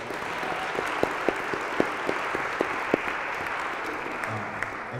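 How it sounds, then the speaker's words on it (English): An audience at a discussion and Q&A event gives a steady round of applause, a dense wash of clapping with a few sharper individual claps standing out. "Can you please give her a round of applause?"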